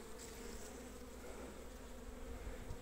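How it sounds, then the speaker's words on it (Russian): Honey bees buzzing around hive frames in a queen-rearing starter colony, a dense, continuous drone that holds steady and close throughout with no voices. "Вот тоже вот пчелка выходит."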